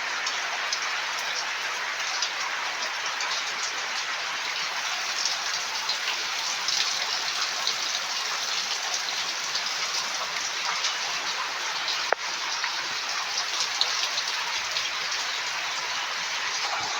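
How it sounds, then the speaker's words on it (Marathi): Steady, dense downpour of heavy rain drumming on surfaces, a constant broadband hiss with scattered louder drops, no voices. "पावसाने बघा जोरदार हजेरी लावली. भरपूर मोठा पाऊस आलाय."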